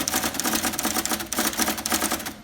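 Rapid, steady clatter of keys on a professionally cleaned and adjusted IBM Personal Selectric electric typewriter, close and loud, with dense overlapping strikes continuing throughout and no voices.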